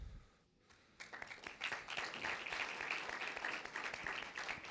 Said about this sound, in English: And then clap for him again if you want to.